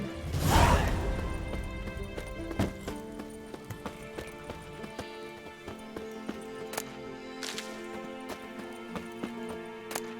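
Horse hooves clip-clopping in the Witcher 3 open-world game, a few clear impacts standing out over a steady background ambience, with a louder burst at the start.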